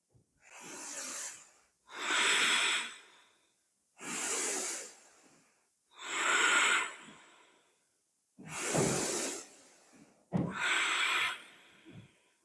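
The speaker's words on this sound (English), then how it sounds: "We're breathing." Slow, deep breathing during a hatha yoga pose, with six long airy inhales and exhales spaced about two seconds apart, close to the microphone and with no talking.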